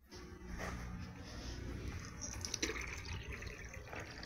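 Drinking water pours steadily and faintly into a pet bowl for cats and dogs in a home, a continuous gurgling trickle with a few splashes.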